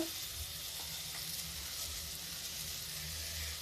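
Ridge gourd sizzles and fries in a pan with a steady, even hiss that stays close and moderately loud throughout, with no voices.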